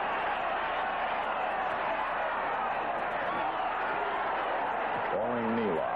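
Wrestling arena crowd from a classic Hollywood and Chicago bout, a dense continuous roar of cheering that stays level throughout, with a commentator's voice rising briefly near the end.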